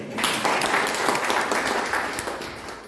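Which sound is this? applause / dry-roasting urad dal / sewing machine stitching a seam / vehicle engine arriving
applause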